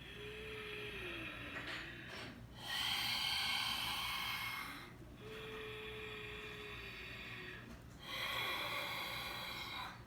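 Slow breathing in and out through the nose with the mouth closed, three soft airy breaths alternating with quieter pauses, close and faint against a low steady hum.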